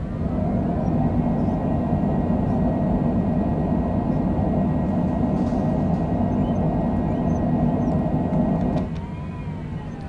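A light aircraft's engine roars steadily and loudly in reverse thrust during landing rollout on runway 15 at Fort Collins, Colorado, a constant broadband drone that drops slightly in level near the end.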